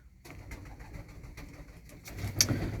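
Soft, low coos from a large, well-built acrobatic pigeon repeat close by amid light rustling and shuffling, with a brief sharper sound near the end.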